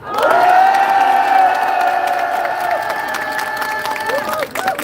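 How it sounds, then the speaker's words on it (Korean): A large crowd at an election rally for a Democratic Party candidate in Gwangjin, Seoul, lets out a loud, sustained unison cheer, a long rising 'whoo' held for several seconds before it breaks into scattered shouts and clapping. "다시 한번 환호하 환호성을 보내시면 좋겠습니다. 환호성 시작!"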